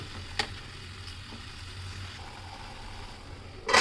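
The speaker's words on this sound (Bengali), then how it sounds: "দু মিনিটের মতো একটু নেড়ে চেড়ে ভেজে নিতে হবে ব্রকলির ফুল" Broccoli florets and chopped onion stalks fry in a pan with a little oil, giving a low, soft sizzle with a few light clicks of stirring and a louder scrape at the end.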